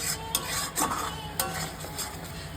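Spices and salt fry in oil in a pan for a vegetarian paneer dish, giving a steady close sizzle broken by a few sharp clinks of a spoon stirring against the pan.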